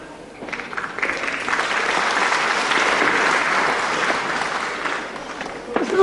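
Crowd applauding at a wrestling bout between Dean Brisco and John Elijah, a steady wash of clapping that swells and holds for several seconds before easing off.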